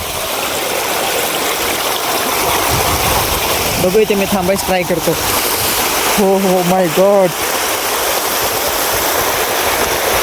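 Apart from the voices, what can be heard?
floodwater rushing through a canal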